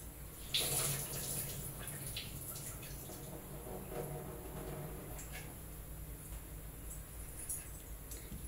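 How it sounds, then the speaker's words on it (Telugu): Water poured into a frying pan on the stove, a faint, soft trickle and splash with a few sharp clinks, quiet and close, with no voices. "ఇప్పుడు వాటర్ పెట్టుకుందాం."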